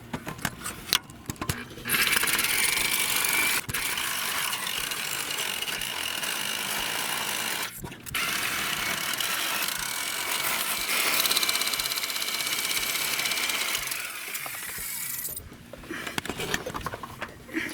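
A power tool cuts a metal boss off a lift bracket on a 2016 Chevy 1500 LT during a Fabtech 4-inch lift install, giving a loud, sustained harsh grinding roar that cuts out briefly midway, then resumes before stopping.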